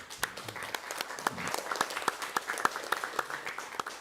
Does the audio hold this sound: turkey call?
no